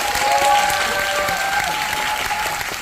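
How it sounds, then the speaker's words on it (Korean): An audience at a film screening's guest talk applauds the cinematographer, a sustained, dense wash of clapping from many hands with a few faint voices mixed in. "촬영 감독님께 박수를 다시 드리겠습니다"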